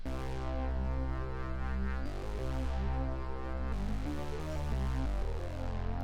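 A loud, buzzy synth bass plays a sustained mono line, changing notes every couple of seconds, harsh and bright, with nothing else around it.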